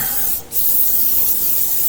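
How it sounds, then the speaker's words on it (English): Ballistol cleaner sprayed over a firearm's lower receiver, a continuous loud aerosol hiss with one brief break, nearby and alone. "spray the whole outside"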